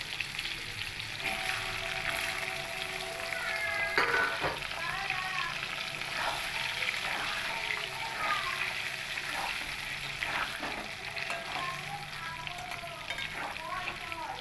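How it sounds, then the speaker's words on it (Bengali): Potatoes fry in hot oil, reused from frying eggs, with a steady, close crackling sizzle and occasional spoon stirring and clinks against the pan. "ওই একই তেলের মধ্যেই আমি আলুগুলোকে হালকা লালচে কালার করে ভেজে নেব"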